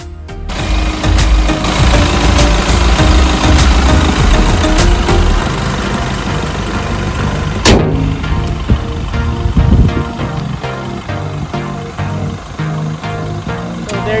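A Toyota Innova's 2.8-liter diesel with double overhead camshafts and a variable-nozzle intercooled turbocharger runs nearby with a loud, steady idle and a clattering knock that turns softer partway through.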